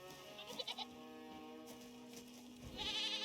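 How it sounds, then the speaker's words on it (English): A goat in the video game Reka bleats in a few short, wavering calls near the start, then again briefly near the end, over a quiet ambient background. "Is that the goat?"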